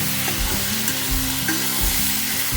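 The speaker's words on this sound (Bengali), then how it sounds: "এবার সব একসাথে আমি ভালো করে কষিয়ে নেব" Ridge gourd, potato and spices stir-fried together in a pan for a Bengali home-cooked dish, giving a steady close sizzle with scraping stir strokes throughout, no voices.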